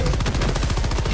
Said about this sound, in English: Second rocket inbound!